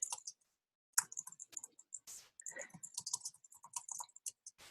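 Close, quiet typing on a computer keyboard: irregular bursts of crisp key clicks separated by brief pauses, with no voices over it.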